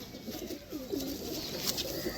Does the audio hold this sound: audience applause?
no